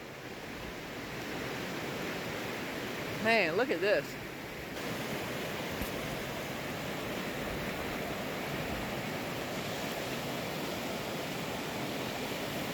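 Flash-flooded creek rushing hard past trees, a loud continuous broadband roar of churning water, with a man briefly exclaiming over it near the start.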